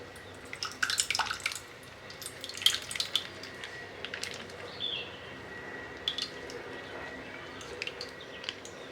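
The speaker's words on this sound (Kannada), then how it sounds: "ಹೀಗೆ ಅದಕ್ಕೆ ಒಂದು ಗ್ಲಾಸಷ್ಟು ನೀರು ಹಾಕ್ಕೊಂಡು" About a glass of water is poured into a pan of curd, making soft trickles and a burst of splashy drips early on, then quieter scattered drips over low background hiss.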